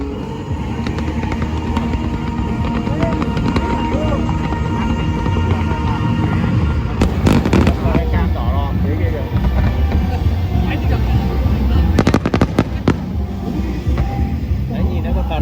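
Fireworks at an Obon festival in Obihiro, Hokkaido, a continuous loud rumble of distant bursts with sharper crackling explosions clustered around the middle and toward the end, under constant crowd and wind noise.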